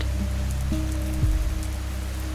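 Rain dripping from rooftops after a downpour, a soft steady patter with faint drips spread throughout, quiet and even under a low background hum.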